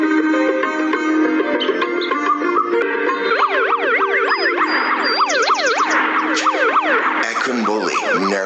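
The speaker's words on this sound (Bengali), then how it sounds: "বৌমা তুমি টেনশন করে, অ্যাম্বুলেন্স আসতেছে" An ambulance siren in an animated Meena cartoon wails in rising and falling sweeps, starting a few seconds in and staying loud over other busy soundtrack sounds.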